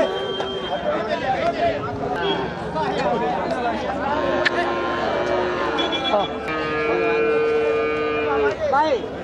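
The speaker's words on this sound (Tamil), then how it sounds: "இது நாட்டு மாடு பால் மாடு" Native dairy cows low and moo at a busy Melur cattle market, heard under constant crowd chatter and nearby voices, with a few drawn-out calls standing out.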